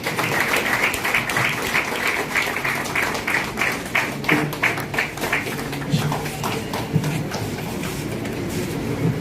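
Sustained applause from an audience at a laboratory complex commissioning ceremony, dense clapping holding steady for the whole stretch with some scattered voices mixed in.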